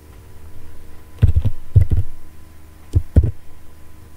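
Keys clacking on a computer keyboard while HTML code is entered, sounding as two short close bursts of taps separated by a pause, over a quiet room with no talking.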